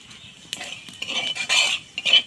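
A small spoon clinks and scrapes against a bowl as cumin goes into a Bengali prawn paste, giving several short, bright metallic taps and stirring scrapes at close range with no talk.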